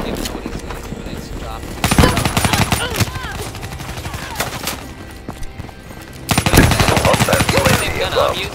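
Rapid automatic gunfire from the Black Ops 3 multiplayer beta, two loud bursts of fast repeated shots over a busy background of game sounds, with a voice talking faintly.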